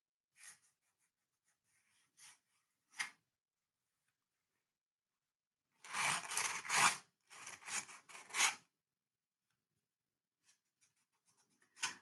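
A hand tool scrapes color from the surface of gray board in short rasping strokes, several quick passes bunched together between long silent gaps, close and moderately loud, with no talking.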